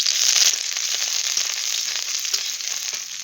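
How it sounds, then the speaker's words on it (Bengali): Chopped garlic and grated ginger sizzle steadily in hot oil with a dense, crackling hiss and scattered pops, close up and continuous without any talk. "এবারে তেলের মধ্যে দিয়ে দিচ্ছি রসুন কুচি আর গেট করা আদা"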